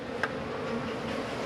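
Honeybees swarm around a hive frame with a steady, dense buzz that stays close and fairly loud throughout, with no voices.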